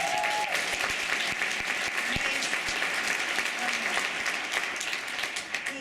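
Audience at the Fred & Adele Astaire dance awards ceremony applauds, a dense, steady wash of many hands clapping that holds throughout at moderate distance before easing slightly at the end, with a faint voice briefly underneath.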